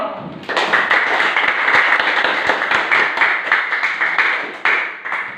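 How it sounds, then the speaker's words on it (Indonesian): A classroom of students claps hands together in a quick, dense burst of applause that starts abruptly and carries on steadily, with individual sharp claps standing out before a brief renewed swell near the end. "Tepuk tangan dulu."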